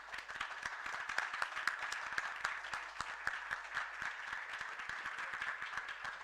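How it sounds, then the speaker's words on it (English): An audience at a valedictory ceremony claps in sustained, even applause, many hands at moderate distance, fairly faint and steady from start to finish. "Please, all of you stand and give a round of applause to all the member of the organizing committee and the student volunteer one."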